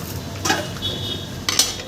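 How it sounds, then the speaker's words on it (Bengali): Pan clatter and stirring as fried vegetables go into spiced gravy for a Thakur Bari shukto, with a couple of sharp metallic scrapes and knocks over a soft sizzle. "সমস্ত সবজি আমি এর মধ্যে ভাজা সবজিগুলো দিয়ে দিলাম"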